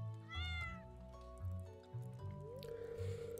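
A cat meows several times in the farming video game Stardew Valley, over soft game music and chiming effects.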